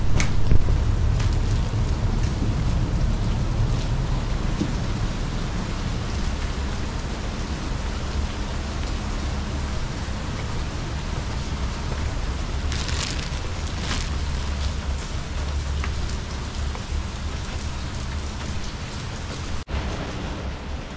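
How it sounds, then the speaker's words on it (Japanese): Heavy rain pours steadily at an outdoor hot spring bath, a loud, dense, continuous hiss of drops on surfaces with a low rumbling undertone throughout. "とにかく雨が強いので傘をかぶらないといけないですね。"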